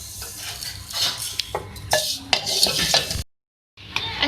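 Vermicelli being stirred and roasted in a pan, with scraping, clinking and rustling strokes from a spoon against the pan, a brief pause, then more stirring.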